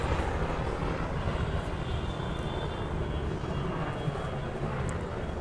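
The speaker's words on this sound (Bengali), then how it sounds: "হেলিকপ্টার উড়ে যাচ্ছে" A helicopter passing overhead near a shrine, a loud continuous rotor and engine roar that stays steady throughout, with no talking.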